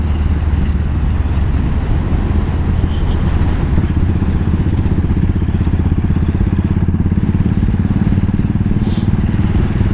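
A Royal Enfield Continental GT motorcycle cruises at about 65 mph and 3,500 rpm, its single-cylinder engine thrumming in a close, steady, pulsing drone mixed with wind rush and no talk.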